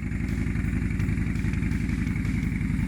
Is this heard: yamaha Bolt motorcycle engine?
yes